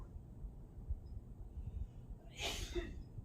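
A single sharp sneeze bursts out partway through, loud and close over a quiet room during a makeup application.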